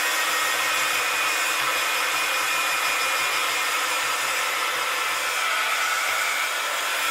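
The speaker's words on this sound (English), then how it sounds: "Just give this a blast with the heat gun" A heat gun blows with a loud, steady, hissing rush of air that holds constant throughout, close and unbroken.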